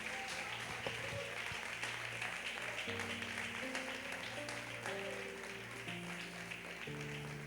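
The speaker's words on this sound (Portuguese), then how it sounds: "Dê uma melhor salva de palmas para Jesus." A church congregation applauds in praise of Jesus, a soft, steady wash of clapping held under sustained organ or keyboard chords throughout.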